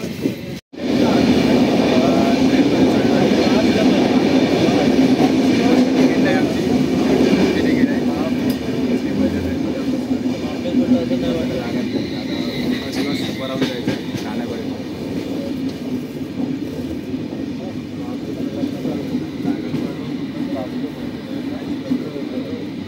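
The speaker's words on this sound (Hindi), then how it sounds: "फाइनली गाइज ट्रेन आ चुकी है." A train pulls into a station near Mumbai at night, a loud continuous rolling rumble with rail clatter close by that slowly eases, while someone talks over it.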